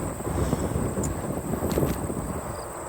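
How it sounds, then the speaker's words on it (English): Wind rushes over the microphone while cycling on a trail, a steady close buffeting roar with a faint high whine running through it, no voices. "wind is picked up"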